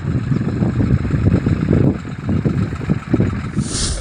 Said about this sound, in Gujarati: ટ્રેક્ટર આવે છે સરસ મજાનું.